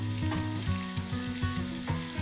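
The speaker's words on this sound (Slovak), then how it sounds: "Najemno nasekanú cibuľu si orestujeme" Finely chopped onion sautés in a pan for a vegan lentil stew, giving a steady, close, loud sizzle with a low tonal hum underneath and no voices.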